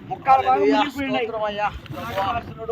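A boat carrying a group of travellers moves across open water, its low motor hum and wind noise running steadily beneath people talking close by.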